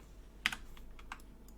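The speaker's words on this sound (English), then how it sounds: "hit P on the keyboard" A single key press on a computer keyboard, one soft, close tap followed by a few fainter clicks over a quiet room hum.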